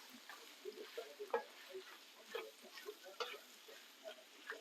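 Drained pasta stirred in a wok gives soft, faint scraping and light clicking taps in an irregular rhythm, with a gentle sizzle underneath and no voices.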